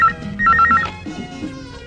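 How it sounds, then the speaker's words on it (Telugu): A home telephone gives quick bursts of electronic trilling at the start, then stops and leaves only faint background sound. "ఫోన్ తీయండి."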